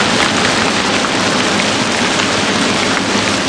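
Heavy monsoon rain pours steadily in Balochistan, a dense, loud, unbroken hiss of water striking surfaces close by, with no voices over it.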